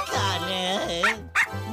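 Cartoon puppies in an Italian-dubbed children's animation give a drawn-out whimpering yip followed by two short, sharp barks, close and clear.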